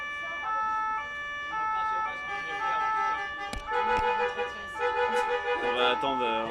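An emergency vehicle siren passes close by, its wailing tones rising and falling continuously and growing louder and denser toward the end, with traffic noise underneath.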